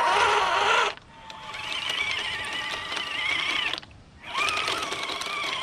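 A small RC Ripsaw tank runs on custom paddle tracks with glued-on paddle lugs, giving a close whirring, clattering motor and track noise in two sustained runs separated by brief pauses.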